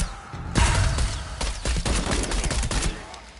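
Rapid bursts of shotgun gunfire in the video game Shadow of the Tomb Raider, a dense volley of loud overlapping blasts with no voices.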